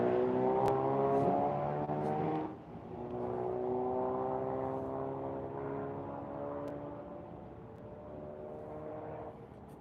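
Engine roar from a Cardinal and a Porsche drag racing at Quaker City, with tonal revs climbing, a dip around the gear change, then steady strong drone fading slightly as the cars pull away.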